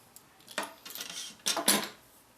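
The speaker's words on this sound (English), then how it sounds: "Okay, let's go ahead and give this pizza a cut here." A knife or pizza cutter crunches through the crust of a homemade Big Mac pizza in a few close, scraping strokes, the last two louder and crisper, with no talking.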